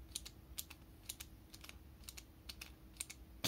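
Pentel Calme ballpoint pen clicked again and again at close range, giving a run of soft, muted clicks in an uneven rhythm against a quiet room, with no voices.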